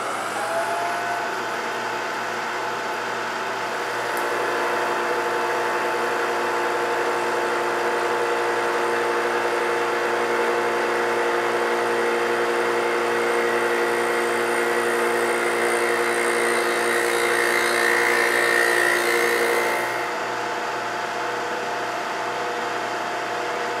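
An end mill spinning at about 3,000 RPM in a holder cuts a roughing pass on a milling machine, giving a steady, loud whirring hum with a slightly harsher grinding stretch in the middle, no talk.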